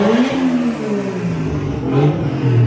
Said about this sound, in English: Those are some weird rotary noises,